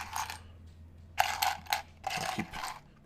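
Mechanical keyboard keycaps handled and sorted, short bursts of light plastic clicking and rattling in a few clusters separated by quiet gaps, close by, no speech.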